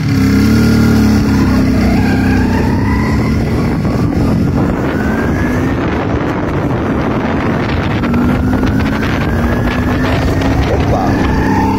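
An MZ ETZ 250 two-stroke motorcycle revving and pulling away, a continuous loud buzzing engine note that rises in pitch over time, heavily mixed with wind buffeting the microphone throughout.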